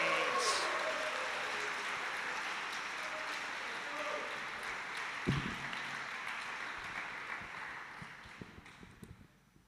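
Steady applause fills a graduation ceremony hall as a grade 12 homeroom teacher walks to the stage, a continuous wash of many hands clapping at moderate level that slowly fades over several seconds.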